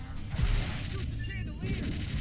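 Rapid gunfire from the House of the Dead: Scarlet Dawn arcade shooter, a dense burst of shots mixed with game effects and music, with a voice talking over it.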